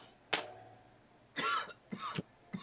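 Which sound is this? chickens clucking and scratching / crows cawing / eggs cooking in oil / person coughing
person coughing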